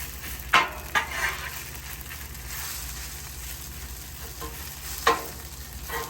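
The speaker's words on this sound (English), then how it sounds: "Add in some barbecue sauce to the pulled pork to kind of toss it in and let it start to caramelize a little bit on the pork" Pulled pork tossed with barbecue sauce in a hot pan, a continuous soft sizzle with a few sharp scrapes and clinks of a utensil against the pan near the start and again later.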